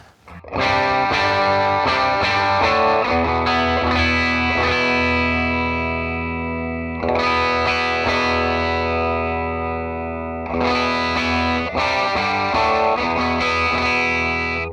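Electric guitar played through a pedalboard into Chieftain and Z80 amplifiers, loud distorted chords and sustained notes with chorus-like shimmer, ringing out and restruck a few times, alone without talk.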